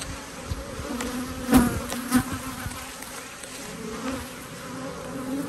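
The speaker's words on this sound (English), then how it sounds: "The bees were very defensive," Defensive honeybees swarm around their hive in a steady, close, droning buzz, with individual bees zipping loudly past at moments over the continuous hum.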